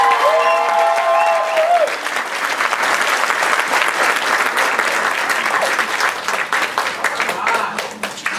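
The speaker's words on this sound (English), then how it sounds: "Let's give them a round of applause for doing that." A theatre audience at a 24-hour theatre event applauds, a dense and steady wash of many hands clapping that lasts several seconds, with a voice heard briefly at the start.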